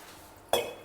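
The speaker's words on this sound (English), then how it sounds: "Give it a good mix, then add water to it" A spoon scrapes and clinks against a pot while stirring tomato, peas and rice, a brief close clatter after a quiet start with a second short knock at the end.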